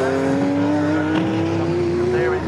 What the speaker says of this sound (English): Still, Matty Evans is fending off the advances of the BMW behind there.